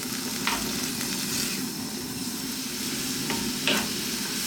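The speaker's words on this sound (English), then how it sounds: "Keep stirring pretty much all the time now." Beef sizzles and fries steadily in a hot wok during stir frying, with a few scraping stirs of a utensil over the constant crackle.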